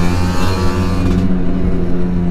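A Kawasaki Ninja SS 150 two-stroke motorcycle accelerates hard, its buzzing engine rising in pitch through the revs before easing off, loud and close.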